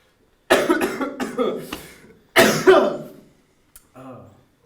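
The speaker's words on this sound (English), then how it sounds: "next we have cough" A series of harsh coughs in two quick bursts, close and loud, followed by a softer voiced throat sound after a short pause.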